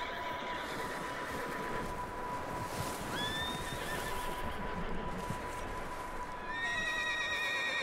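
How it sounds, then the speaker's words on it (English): A horse neighs and whinnies twice in Red Dead Redemption 2 amid a steady background hum and faint hoof clatter, fairly quiet and somewhat distant. "There's a horse."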